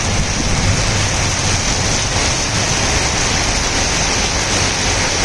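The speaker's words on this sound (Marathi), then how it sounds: "उदगीर ते नांदेड रस्ता आणि देगलूर रोडवर अतिशय मुसळधार पाऊस पडत आहे।" Heavy downpour on the road between Udgir and Deglur, a dense, steady roar of rain close by and loud, constant throughout with no voices.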